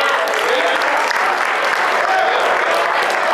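Audience applause fills the room at a barbershop debate, steady dense clapping from a crowd held at an even loud level throughout with no break.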